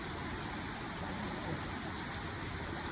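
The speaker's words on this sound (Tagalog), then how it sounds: "It's raining" Steady rain falls close by, a dense even hiss of drops on surfaces lasting throughout with no pauses.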